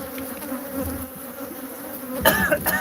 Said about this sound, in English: more killer bees than you can shake a damn stick at